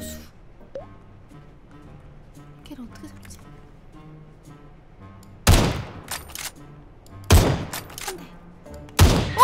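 Three sharp bursts of rapid gunfire in a shooting video game break a quiet stretch, each a loud, harsh volley, with faint game sounds between them.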